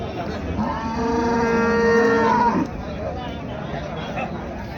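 A cow moos loudly and close by at a Tamil cattle market with Sindhi and HF cattle, one long drawn-out low call with other animals and market noise behind it.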